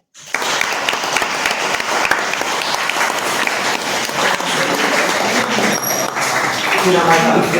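A school farewell function audience claps continuously in loud, dense applause from start to finish, a room full of hands with a steady rush throughout.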